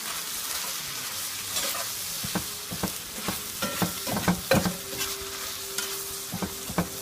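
Steak, onions and peppers seasoned with camp mix sizzle in a pan, with frequent spatula scrapes and taps over a constant hiss, close and alone.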